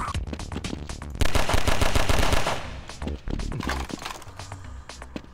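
Rapid gunfire in the video game Codename: Gordon, loud and dense bursts of shots with a brief lull, then scattered single shots and impacts.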